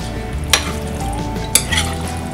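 A spoon stirs a lazy lasagna pasta mixture in a pot, giving a steady sizzling, scraping stir close up, marked by two sharp clanks of the spoon against the pot rim about a second apart, with no voices.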